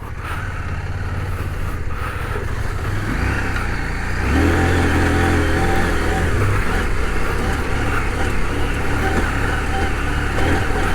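A CF Moto 800MT touring motorcycle ridden off-road, its engine droning steadily and loud throughout, rising in pitch and intensity around the midpoint as it pulls harder through rough terrain.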